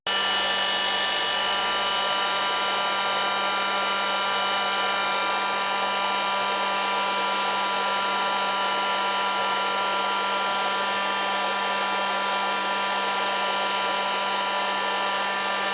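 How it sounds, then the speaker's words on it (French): A heat gun blows steadily on the front wheel bearing ring of a 2006 Mercedes C200 CDI, a continuous close whirring hiss with a fixed mechanical hum, no talking throughout. "Je vais prendre un décapeur thermique et je vais essayer de chauffer la bague pour que ce soit peut-être plus facile."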